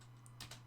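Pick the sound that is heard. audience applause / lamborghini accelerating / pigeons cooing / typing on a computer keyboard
typing on a computer keyboard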